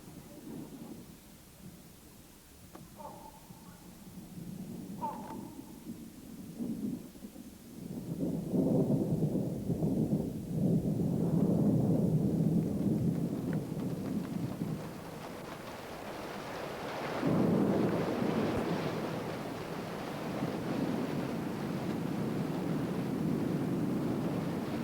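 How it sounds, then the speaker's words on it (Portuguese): Thunder rolls through a mountainous Borneo rainforest during a heavy downpour, with scattered early drops giving way to long, deep rumbles that swell and fade beneath a steady hiss of rain. "Fortes chuvas varrem estas florestas, arrastando o solo e seus nutrientes."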